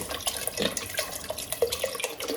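Beef broth poured into a soup pot for hamburger soup: a brief, close liquid splash and trickle with small dripping pops, no talking.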